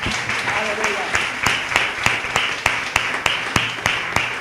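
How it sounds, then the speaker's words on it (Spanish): Church congregation applause fills the space, a steady round of clapping with a few sharp individual claps standing out, voices faintly mixed in. "Le damos un aplauso al Señor."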